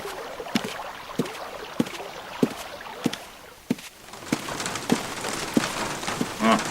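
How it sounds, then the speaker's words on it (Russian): Steady patter of rain on a garden pond with regular dripping plinks and splashes, continuous and close, with no voices. "Опять дождь сыпанул. А этот раз с пузырями."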